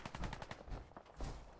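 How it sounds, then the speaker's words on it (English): Rapid bursts of automatic gunfire from the video game Fallout 4, dense and rattling, with a second burst after a short pause, no talk over it. "I think I've heard gunfire from Taffington."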